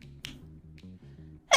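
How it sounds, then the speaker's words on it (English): A woman sneezes sharply near the end, after a brief quiet lead-in with faint hums and small breathy sounds. "I need to sneeze."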